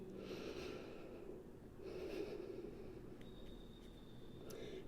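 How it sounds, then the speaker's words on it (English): Deep breathing in and out during a plus-size strength and balance yoga flow, two or three long slow breath swells over a steady background, close and moderately quiet. "Big breath in and out."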